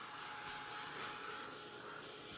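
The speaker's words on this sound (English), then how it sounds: "I'm going to get my little dryer here" Small heat dryer blowing steadily while drying paint on a canvas board sign, a continuous faint whooshing hum with no break.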